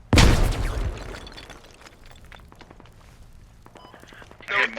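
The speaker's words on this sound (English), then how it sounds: "He dropped a grenade." Grenade explosion in the military video game Squad, one loud booming blast at the start that decays into a rumbling tail, followed by quieter clatter and a brief rise of noise at the end.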